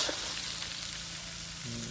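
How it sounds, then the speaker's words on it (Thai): Uncooked rice stir-fried with aromatics in a pan gives a steady close sizzle with scraping stirs through it, and a short hum comes in near the end. "ข้าวมาผัดกับเครื่องหอมแล้วนะคะ ผัดให้เข้ากันก่อนให้ข้าวสุกสักนิดนึงนะคะ"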